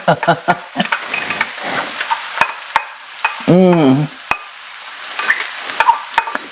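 Onion and garlic sizzling in a pan while a utensil stirs and clinks against it. The scrapes come in irregular bursts, and a voice briefly speaks in the middle.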